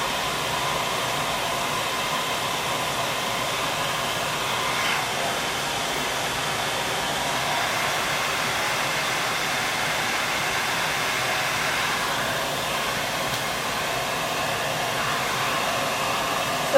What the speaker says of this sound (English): then go in with my diffuser